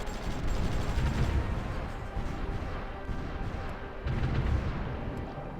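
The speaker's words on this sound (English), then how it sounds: "we'll move the artillery here then. So we can actually bombard the units" Artillery bombarding units in the strategy game Supreme Ruler Ultimate, heavy booming impacts in rolling waves with dense crackling fire, two big thuds near the start and end, no talk.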